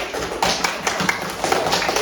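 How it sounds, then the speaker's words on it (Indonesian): A third-grade elementary classroom full of children claps at the teacher's prompt: a quick burst of sharp, close hand claps, dense and fairly loud, lasting about two seconds. "Tepuk tangan"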